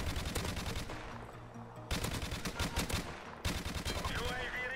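Gunfire from the video game Modern Warfare Remastered: rapid bursts of automatic shots crackle in three stretches with brief pauses between, loud and close, with game sounds mixed in.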